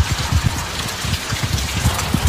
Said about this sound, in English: I came outside for a minute. And it's raining.